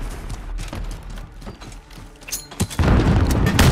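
Grenade exploding in Call of Duty: Modern Warfare, a series of short thumps and mechanical knocks leading into a heavy, loud boom with a rumbling tail at the end.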